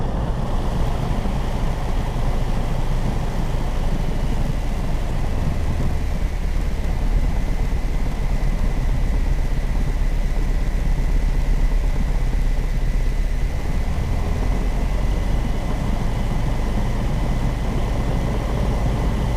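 A small training airplane's piston engine drones steadily and loudly throughout the takeoff roll, a constant buzzing hum with a faint tonal whine and no speech.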